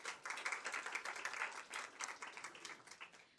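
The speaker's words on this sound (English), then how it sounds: "Give our round of applause." Attendees at a school board meeting give a round of applause: steady, scattered clapping from a modest crowd, fairly quiet and distant, continuing throughout with no talking over it.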